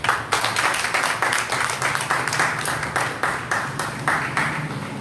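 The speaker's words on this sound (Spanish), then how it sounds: "Vamos a darle un aplauso a Dios." Church congregation applauding during a Sunday school service at an Assembly of God church, a dense, steady crowd clapping sustained across the whole stretch with loud individual claps standing out, no talking.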